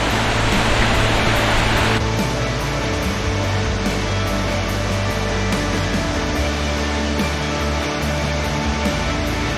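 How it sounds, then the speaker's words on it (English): A loud, constant roar of rushing water, dense and unbroken throughout, like a large waterfall heard up close. "Yeah, that's a pretty good waterfall."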